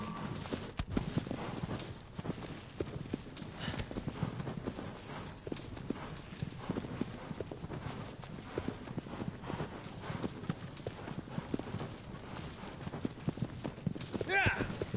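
Horse hooves clip-clop at a steady walking rhythm in the video game Shadow of the Colossus, moderately close and continuous, with someone talking over them throughout.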